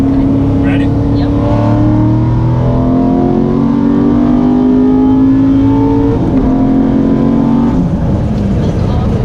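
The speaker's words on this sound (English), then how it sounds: "we're gonna do a little third gear pull here" A car pulls hard through third gear, its engine note climbing steadily in pitch over several seconds before easing off, loud and close from inside the cabin with some voices under the engine.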